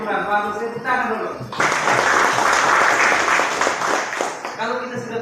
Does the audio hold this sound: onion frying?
no